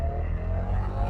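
A Bajaj Dominar 250 motorcycle pulls away in first gear, its engine droning low and steady at close range for a brief moment with no voices.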